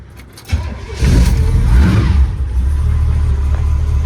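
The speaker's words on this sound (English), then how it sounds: "Man, that thing idles good." A 1971 K20 Suburban with a 388 stroker engine cranks briefly, catches and fires up loud and close, then settles into a steady, deep rumbling idle.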